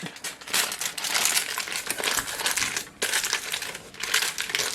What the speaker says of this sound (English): take it and wrap it up in the foil real good